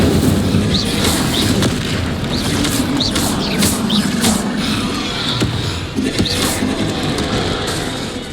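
Spell explosions in the Hogwarts Legacy video game: repeated booming bursts over a dense, loud, continuous rumble of combat effects, with no speech.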